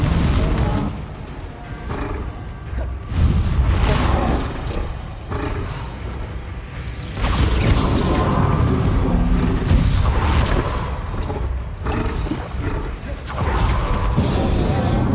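Spell explosions from the video game Hogwarts Legacy, a dense run of heavy booms, thuds and bursts going off one after another in combat, loud and continuous with little pause.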